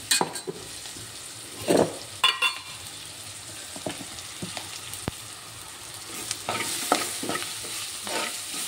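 Onions frying in a pan with fenugreek powder, a steady sizzle under repeated stirring and scraping strokes, close and moderately loud, with a few sharper clinks of the spoon against the pan.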